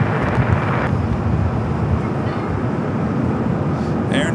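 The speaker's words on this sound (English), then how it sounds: "777 at 300 ER coming in from Auckland. It's flight 6 touching down at 25 at left." An Air New Zealand Boeing 777-300ER arriving from Auckland touches down on runway 25 Left at LAX, a broad, steady jet roar with wind rumble filling the whole stretch, distant and continuous, with a voice talking over it.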